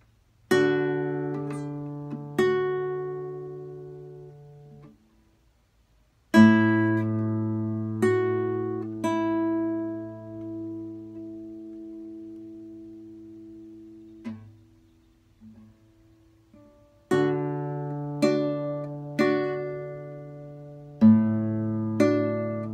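Classical guitar lesson piece stressing hammer-on technique with barring, played solo: clusters of plucked notes ring and decay in phrases, separated by pauses, with notes sounded by hammered fingers within each group.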